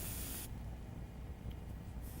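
An airbrush sprays paint in short, close hissing bursts, loud at the start, cutting off, then briefly returning at the end, with no talking.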